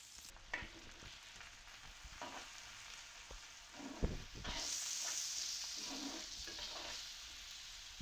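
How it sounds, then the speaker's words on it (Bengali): Onions and green chillies frying and being stirred in a pan, a steady close sizzle with scraping strokes of a spatula, growing into a louder hiss partway through, with no talking. "দিয়ে দিলাম পেঁয়াজ ভাজির জন্য"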